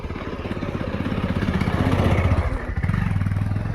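A motorcycle engine chugs close by with a loud, pulsing rumble that grows stronger, dips briefly, then picks up again.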